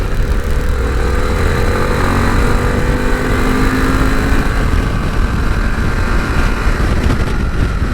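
A motorcycle engine drones loud and close with continuous wind rush, pitch slowly rising as it accelerates to pass a bus on the road.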